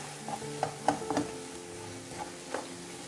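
Eggplant and onion sauté in oil in a frying pan, a steady soft sizzle with occasional scraping stirs and light clicks, close and with no talking.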